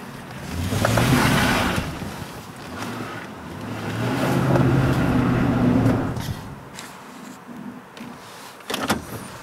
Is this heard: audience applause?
no